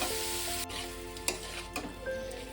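Taro stolons being stirred into hot oil with a hilsa fish head, a continuous sizzle broken by a few sharp scrapes and knocks of the spatula against the pan.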